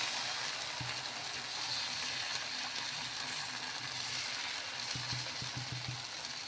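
Dosa batter on a hot pan over high flame, giving a steady, even hiss of sizzling that runs throughout, with a few soft scraping knocks near the start and again toward the end.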